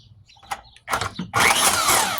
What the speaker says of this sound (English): So now it's time for the bandsaw.